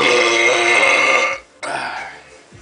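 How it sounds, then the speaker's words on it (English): One long, loud, close burp after drinking Silver Thunder malt liquor, with a short break and then a second rasping tail. "It is good for a belch, I guess."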